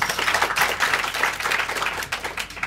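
Crowd at an improv theatre festival in Paris claps in a sustained burst to vote for a contestant, moderately loud and steady with no talking over it.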